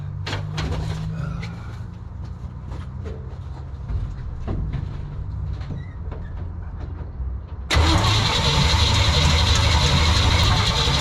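A GMC C60 Viking truck engine cranks with a low rumble, then a sudden burst of loud, broadband noise takes over for the final few seconds, close and sustained.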